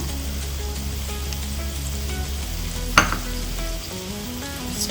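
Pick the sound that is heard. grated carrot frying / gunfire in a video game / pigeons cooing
grated carrot frying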